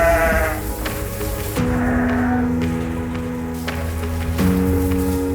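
Garut sheep on a farm bleat loudly and close, several long wavering calls overlapping one after another with livestock noise beneath.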